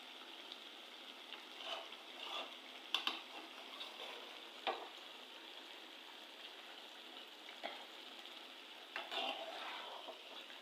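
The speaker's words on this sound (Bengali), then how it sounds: "আমি কিছুক্ষণ এইভাবে আরো ভেজে নেব।" Chopped ash gourd fries over medium-low heat in a pan while it is stirred now and then, giving a steady soft sizzle with occasional sharper scrapes and clicks from the spoon, close and fairly quiet.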